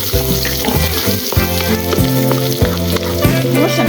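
Chopped garlic frying in oil for a Filipino sardines and sponge gourd dish, a steady dense sizzle with a few stirring knocks, with soft music in the background.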